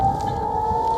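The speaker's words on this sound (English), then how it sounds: "air raid sirens could be heard in the background" Air raid sirens wailing in northern Israel during a missile attack, a steady loud tone holding one pitch and filling the air continuously, with no voices heard.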